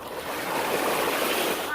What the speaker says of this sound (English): we're at the beach now